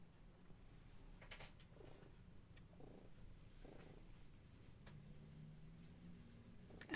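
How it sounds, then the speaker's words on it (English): A soft, steady low purr from a cat close by, with a few faint clicks and rustles over it. "She's purring."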